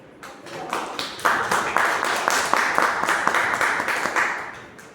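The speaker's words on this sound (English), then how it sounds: "Can we have a big applause for him?" Audience applause for a speaker at a Toastmasters meeting, rising from a few claps into steady clapping that fades after a few seconds, fairly close with no talk over it.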